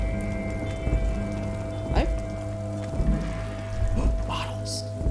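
Steady rain patters continuously in the Disco Elysium video game, a soft wash of drops with a few brief louder taps, while a voice talks over it.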